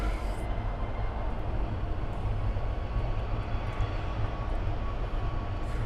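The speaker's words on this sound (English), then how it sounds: "Oh, that's a rapido takeoff" An AeroMexico airliner taking off at an airport, a steady low engine roar that holds constant throughout, heard from a distance without talk.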